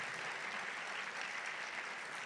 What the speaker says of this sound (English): A round of applause for all of you.